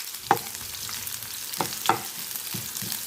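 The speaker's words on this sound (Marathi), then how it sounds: "कांद्याला आपल्याला गुलाबी लालसर रंगावर येईपर्यंत परतवून घ्यायचं आहे" Chopped onions sauté in oil in a pan while being stirred until pinkish-red, a soft steady sizzle broken by a few sharp scraping stirs of the spoon, with no voices.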